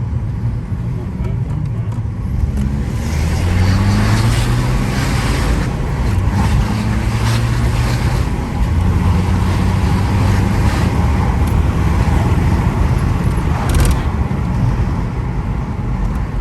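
A stage 2 tuned BMW 120d diesel accelerates hard from inside the cabin, a loud steady engine drone rising through gears with road and wind noise, while people talk over it.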